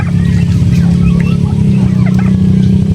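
Loud, close gobbling and fowl calls from turkeys with fowl pox repeat continuously over a steady low rumble.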